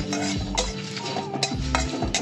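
Whole cumin, dried red chillies and a bay leaf dry-fried in a pan, with steady scraping and stirring strokes plus a few metallic clinks of utensil on cookware, moderately loud and close, with musical tones underneath.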